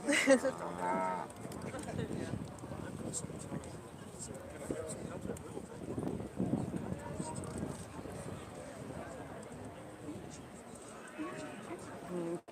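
Aberdeen-Angus calves moo in the show ring at the Royal Highland Show, several loud moos near the start and scattered lowing afterward under constant crowd chatter and an announcer's voice.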